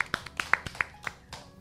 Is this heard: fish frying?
no